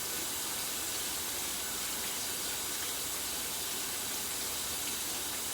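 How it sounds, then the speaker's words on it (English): Cool tap water runs steadily over raw pork chops being rinsed on both sides at a kitchen sink, a continuous soft hiss and splash with no voices. "I'm rinsing them on both sides in cool water."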